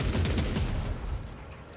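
Rapid automatic gunfire from a magazine dump in the video game Warhammer 40k: Rogue Trader: a dense, continuous burst of overlapping shots, loud and close, easing slightly toward the end.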